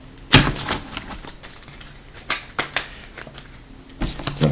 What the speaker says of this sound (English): So I'm going to shuffle this deck right now